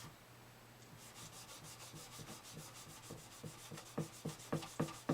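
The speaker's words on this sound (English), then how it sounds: "You see what I mean about rubbing on both sides of the fret?" Metal file rubbing over the frets of a StewMac D-28 acoustic guitar kit during fret dressing, rhythmic back-and-forth rasping strokes that grow louder and more pronounced toward the end, close up with no talking.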